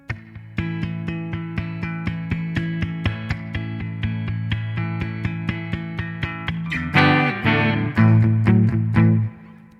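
Electric guitar plays a song intro, a part built on an A bar chord, with steady rhythmic strummed chops that swell into fuller, louder chords near the end, close and without voices.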